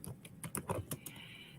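Typing on a computer keyboard while filling in a spreadsheet, a quick run of close, light key clicks in uneven bursts, fairly quiet, with no talk over it.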